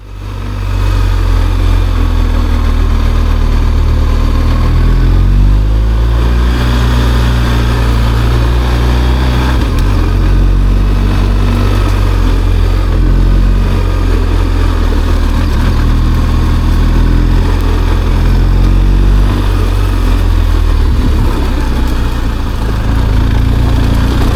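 A loud, steady BMW R1250 GSA motorcycle engine drones continuously nearby on a mountain off-road trail, a low rumbling hum that rises and falls slightly in pitch.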